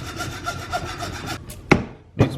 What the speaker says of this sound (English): Get your hacksaw, or if you have a powered saw,